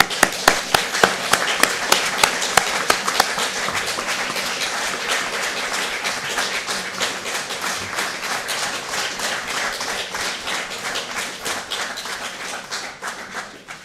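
Audience applause fills a school graduation ceremony at Rõuge Basic School, dense and steady throughout, opening with a few distinct sharp claps before settling into sustained clapping that fades slightly at the end.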